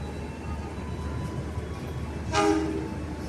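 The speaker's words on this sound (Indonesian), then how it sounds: "Saya ada di kelas eksekutif, yaitu di eksekutif 2-nya" Senja Utama Solo passenger train heard from inside the executive-class carriage: a steady low rumble of the moving train, with a brief horn-like tone near the end.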